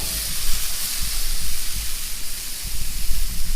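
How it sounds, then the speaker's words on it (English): Potatoes dumped onto a hot, oiled Blackstone griddle, setting off a loud, steady sizzle and hiss that carries through the whole stretch with slight surges. "So now I'm going to dump the potatoes straight onto the griddle"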